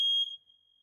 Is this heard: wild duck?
no